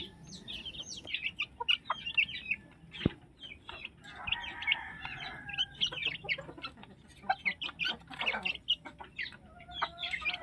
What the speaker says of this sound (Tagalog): Sisiw ang nasa loob.